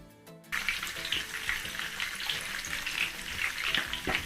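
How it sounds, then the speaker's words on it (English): Steady crackling sizzle of yam and potato akara frying in hot oil, close and continuous, with faint clinks in the background. "Did you hear that sizzle?"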